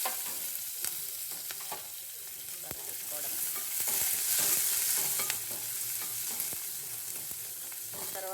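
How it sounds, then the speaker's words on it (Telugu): Onions tipped into hot oil with cumin and mustard seeds for an egg curry, sizzling and crackling steadily while being stirred, with scattered spoon scrapes and knocks, fairly close and without talk. "ఇలా జీలకర్ర ఆవాలు వేసాక సింపుల్ అండి ఎగ్గు కర్రీ. ఇలా ఆనియన్స్ అన్నీ ఒకేసారి వేసేస్తాం."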